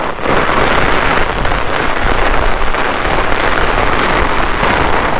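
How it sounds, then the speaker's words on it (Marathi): Heavy monsoon rain pours through trees over coastal mudflats, a loud, dense, continuous hiss of drops striking leaves and surfaces with no voices. "पाऊस आहे हा पाऊस येतो"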